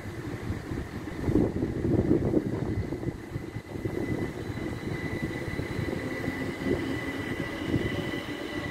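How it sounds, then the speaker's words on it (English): An Elizabeth Line train from Abbey Wood arriving at Reading station, where it terminates: a steady low rumble and rolling hum of the train drawing in under a faint high whine, continuous for several seconds. "Train from Abbey Wood coming into Reading, where it will terminate. The Elizabeth Line train."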